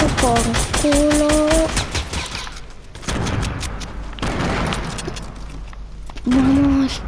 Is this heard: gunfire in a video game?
yes